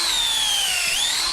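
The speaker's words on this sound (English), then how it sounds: "The next step is to drill the hole in the tree." A power drill bores a tap hole into a tree trunk, its motor a loud, close, steady whine that dips slightly in pitch midway, with no talking.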